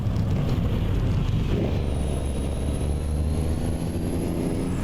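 Scania truck fitted with a wolf exhaust in Euro Truck Simulator 2, a steady loud low engine drone with a high whine rising partway through, continuous with no talk.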